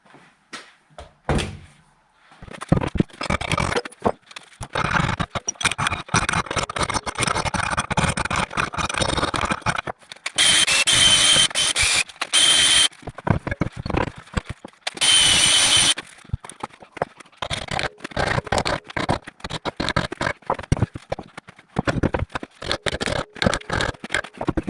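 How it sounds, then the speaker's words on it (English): A flap wheel grinds out a worn suspension ball joint socket on a VW T5's front suspension, a loud sustained abrasive whir with brief pauses and bursts of harsher high-pitched scouring. "all I'm cleaning it out with is with a what they call flapper wheel"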